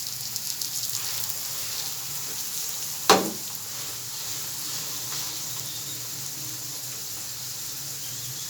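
Cabbage paratha frying with ghee on a hot griddle, a steady close sizzle throughout with a single sharp scrape or tap partway through, no voices.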